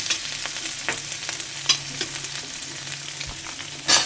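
Onion, garlic, ginger and green chilli frying in hot oil, a steady crackling sizzle with occasional sharper pops and stirring clinks, close and moderately loud with no voices.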